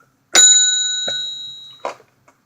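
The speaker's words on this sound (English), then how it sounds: "don't forget to hit the little bell" A bright notification bell chime rings once and rings out, followed by a second softer ding, with no speech.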